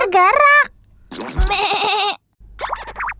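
Small lamb bleating in wavering, nasal cries, close and fairly loud, with a couple of separate calls across the moment and a short quiet gap between them.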